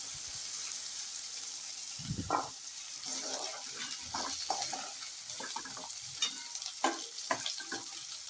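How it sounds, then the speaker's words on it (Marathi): Ground masala paste for a vegetable kurma sautéing in oil in a pan: a steady, fairly soft sizzle with repeated scraping and clinking from a stirring spoon, and no talking. "हा मिक्सरला लावलेला सगळा मसाला परतून घ्यायचा आहे"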